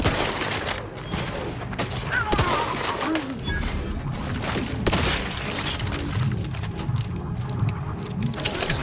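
Sustained gunfire in The Outer Worlds video game: rapid overlapping shots and impacts with sharp cracks and booms throughout a busy firefight, with faint voices mixed in.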